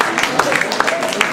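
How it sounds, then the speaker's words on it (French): An audience at a summer outdoor show in Chartres claps in a quick, even rhythm, a short burst of sharp hand claps with a voice talking over it. "Les mains en l'air pour applaudir"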